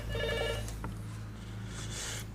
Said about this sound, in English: every time the phone rings